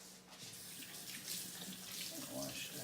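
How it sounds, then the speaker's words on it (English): Tap water runs steadily into a kitchen sink as hands are rinsed under it, a continuous soft splashing rush that stays even and fairly quiet throughout. "Wash the hands."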